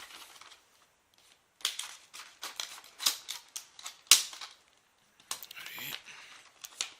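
Scissors cut open the plastic packaging of a Pokémon Kyogre card deck, giving a run of crisp snips and crinkling plastic bursts at close range after a quiet start.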